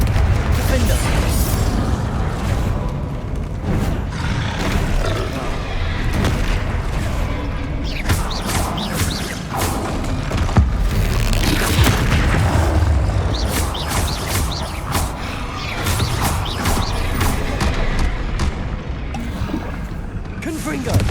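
Repeated Confringo blasting-spell explosions in the game Hogwarts Legacy, loud booming bursts over dense, continuous battle noise and game music, with brief bright crackles scattered throughout.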